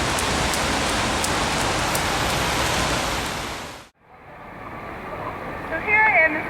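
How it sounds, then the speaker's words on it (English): Steady, loud rain falls in Seville, Spain, as a dense continuous wash for several seconds; it cuts off abruptly, leaving quieter ambient noise with faint chirping at the end. "even though it's raining, we're still gonna have a great time"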